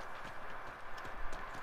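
Horse hooves clip-clop in a steady, brisk rhythm in the video game Red Dead Redemption 2, moderately close, with a console fan humming steadily in the background.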